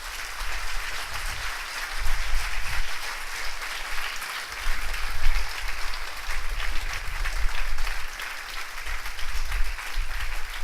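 Steady applause from a church congregation fills the room for about ten seconds, a broad continuous patter of many hands that swells and eases slightly.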